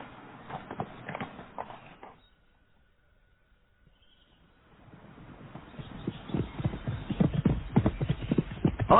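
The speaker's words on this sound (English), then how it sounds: "Fetch me the quietest horse." Horse hooves clip-clop on hard ground in a steady walking rhythm, fading out into near silence for a couple of seconds, then returning louder and closer with distinct repeated hoofbeats.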